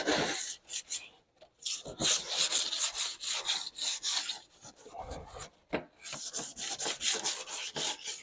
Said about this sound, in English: I just want to sand it so to have a good surface to stick to